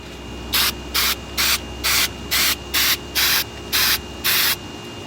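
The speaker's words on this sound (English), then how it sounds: "we're gonna go ahead and spray this" Spray can misting a Stanley No. 6 hand plane during restoration, ten short even hissing bursts in a regular rhythm, close and loud over a quiet room.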